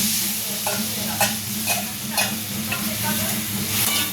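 Spices dropped into onions frying in a pan: a steady sizzle with a low hum underneath, punctuated by several sharp scraping stirs of a spoon against the pan, close and fairly loud, with no talking.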